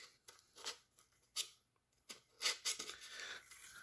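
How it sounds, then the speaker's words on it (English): Scissors snip and crunch through cardboard, several short separate cuts close by and faint, with quiet pauses between. "I'm going to grab my scissors and I'm just going to cut this open"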